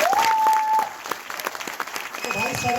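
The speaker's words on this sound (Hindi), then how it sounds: "मैं चाहता हूं एक बार जोरदार तालियां सर के लिए।" An audience at a Vestige training session breaks into loud, full applause that fades slightly, while a voice talks over the clapping.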